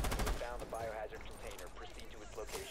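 Rapid automatic gunfire in the tactical shooter game Rainbow Six Siege, loud bursts of shots filling the moment with a continuous rattling barrage.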